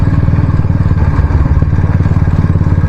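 Royal Enfield Standard 350 motorcycle exhaust thumping in a loud, steady, close beat, the single-cylinder pulse repeating evenly without talk.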